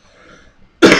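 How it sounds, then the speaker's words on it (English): A single loud cough bursts out suddenly after a moment of near silence. "I'm sorry, I got a cough."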